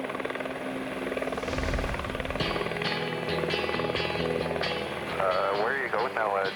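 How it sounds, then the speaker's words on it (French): A bush plane carrying its first passengers takes off from a goose hunting camp in the north, its engine droning steadily throughout under a voice speaking. "Jonathan décolle enfin avec ses premiers passagers du Goose Break."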